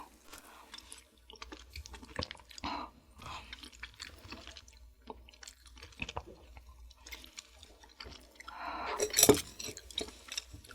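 Someone eats spicy buldak rose jjolla tteokbokki with crispy fried dumplings, boneless fried chicken and tuna mayo rice: quiet, close chewing and soft wet mouth sounds, with one louder crunchy bite near the end.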